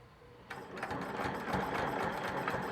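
Sewing machine stitching around a star and letter shapes on a patriotic quilt, a steady mechanical hum with rapid stitching texture that starts abruptly and runs continuously at moderate level.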